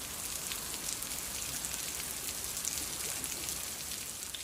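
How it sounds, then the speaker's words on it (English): Heavy rain pours steadily during a storm in California, a dense, even hiss of drops on surfaces that holds at a constant loud level throughout, with no voices. "Heavy floods, heavy rains and strong winds kept residents in a state of panic"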